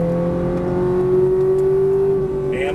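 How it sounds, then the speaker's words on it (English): A Ferrari F430 on a track holds a loud, steady engine note at high revs under hard throttle, a sustained drone heard from inside the car with no talk. "Keep turning, right back on the throttle. Hard on the throttle."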